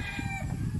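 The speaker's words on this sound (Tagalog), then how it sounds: "At syempre, may manukan." Chickens at a roadside chicken farm cluck briefly over a rough, noisy outdoor background.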